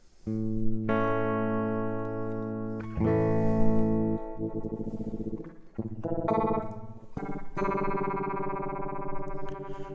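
Electric guitar playing sustained chords through an Ernie Ball Expression Series ambient delay pedal with reverb at about halfway, notes ringing and overlapping with a lush, wet tail; loud and close, no talking.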